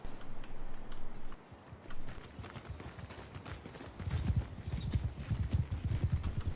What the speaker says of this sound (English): That was a early cav hit on, I think, Eileen's horse